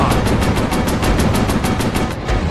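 Rapid machine gun fire from a warplane in a Pacific air combat video game, a loud continuous stream of evenly spaced shots rattling without pause.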